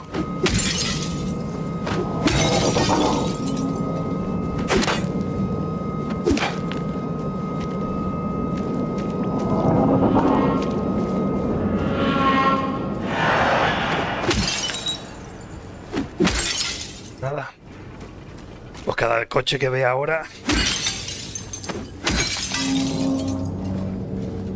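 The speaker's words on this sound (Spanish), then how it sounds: "Romperle los cristales." Car window glass is smashed repeatedly in the Silent Hill 2 Remake video game. Loud sharp shattering crashes and thuds come at irregular intervals over a murky ambient drone, with brief spoken commentary.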